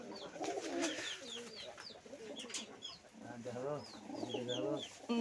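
Giribaz tumbler pigeons, an old Rajshahi bloodline kept in mated pairs, cooing in repeated throaty rolling phrases close by, with chirps and calls from other birds and someone talking over parts of it.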